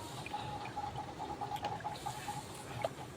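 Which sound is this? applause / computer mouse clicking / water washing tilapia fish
water washing tilapia fish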